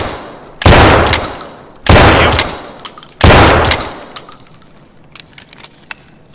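Three loud gunshots crack out in Escape From Tarkov, each a sharp blast with a long ringing tail, spaced about a second apart, followed by faint distant clatter and small ticks as the echoes die away.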